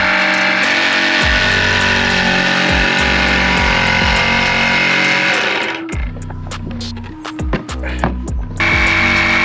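A loud power tool whines steadily close by while cutting out a section for a plumbing pipe, then stops and is followed by scattered knocks and scraping, with no talking.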